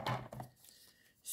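Paper cut to size for a handmade album, a few short, crisp cutting strokes up close at the start, then a quiet pause before another brief burst.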